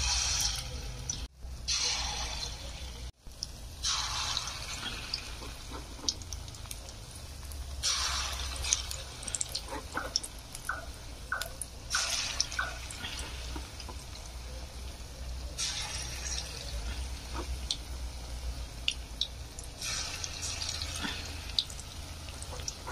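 Battered shiuli flower fritters fry in mustard oil with a soft, uneven bubbling and sizzling, broken by occasional louder bursts as more pieces go in.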